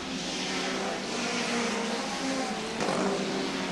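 Hot rod racing cars at the 1977 Hot Rod World Final, a steady roar of several engines at speed, dense and continuous with a slight rise near the end, heard from a distance across the track.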